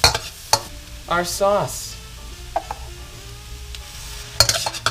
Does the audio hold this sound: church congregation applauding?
no